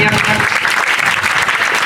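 Loud, close applause at a school Teachers' Day celebration as a student is honoured, dense clapping filling the short moment with voices mixed in.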